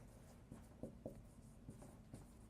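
Chalk or marker strokes on a board during a math lecture proof, a run of soft, quick taps and scratches in an uneven rhythm, faint and close.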